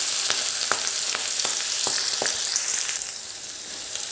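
Chopped onion and green chillies fry in hot oil with mustard seeds, a continuous bright sizzle close up with scattered sharp pops and crackles throughout.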